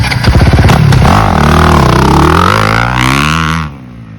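A 2022 Honda CRF250RX dirt bike engine fired from cold in neutral, catching quickly and revving loudly close by for a few seconds before cutting off abruptly.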